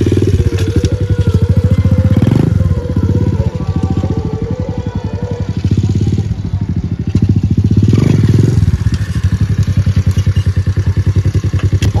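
A stock 125cc dirt bike is ridden close by, its engine loud and steady with a rapid, even firing rhythm that briefly eases and then picks back up.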